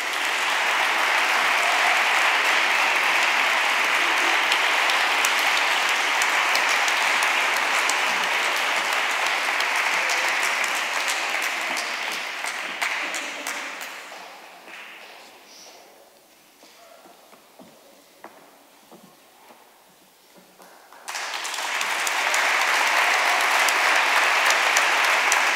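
At an academic year opening ceremony at a UNED associate centre, an audience applauds loudly and steadily. The clapping fades to scattered claps and near quiet, then a second full round of applause swells back up.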